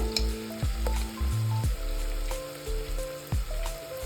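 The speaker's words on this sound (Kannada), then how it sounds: "ಆನಿಯನ್ ಹಾಫ್ ಫ್ರೈ ಆಗಿದೆ." Onions frying in a pan for chicken donne biryani: a close, steady sizzle with wet stirring squelches and short tonal scraping sounds recurring every second or so, no talk.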